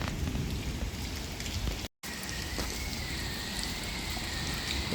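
Heavy rain pours down steadily and loud, a dense unbroken hiss of drops drumming on surfaces close by, with a faint whine running through it and a brief cut in the sound partway.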